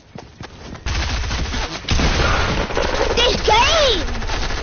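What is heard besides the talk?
gunfire in the Fortnite video game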